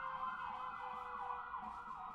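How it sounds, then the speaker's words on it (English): An emergency vehicle siren passes outside, a steady wailing tone that rises and falls slowly, distant and muffled, continuous throughout with no talking. "there was a siren going by"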